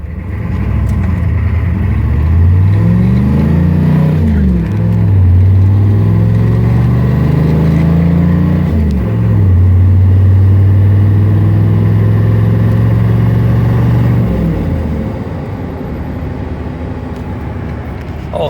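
A 1993 GMC K3500 long-bed four-door truck with a 6.5-liter turbo diesel, aftermarket turbo and water injection, accelerates hard from a stop, the engine droning loudly through rising gear pulls with shifts, then easing off near the end.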